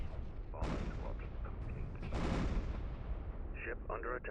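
Trinity cannons firing during a Homeworld 2 space battle with the Vaygr in the PDS mod: dense, continuous rumbling gunfire and booming volleys, loud and sustained throughout, with a burst of sharper crackling shots near the end.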